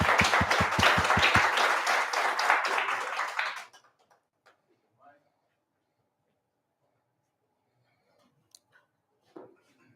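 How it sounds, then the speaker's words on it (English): Audience applause at an incubator program graduation party for the Nemo team: a burst of clapping for about three and a half seconds, then it stops abruptly, leaving a quiet room with a few faint clicks. "Round of applause for Nemo."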